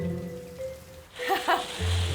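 A heavy downpour of rain pours steadily outside during a wedding day, with a low hum and a brief tonal sound partway through.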